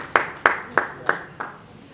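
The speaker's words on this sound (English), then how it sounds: "Please clap if you want to clap." Five sparse, evenly spaced hand claps at an awards show, sharp and fairly close, the last one softer, with a lone person clapping rather than a full audience.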